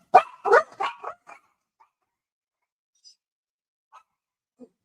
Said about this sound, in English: these 2 dogs, they're so hyper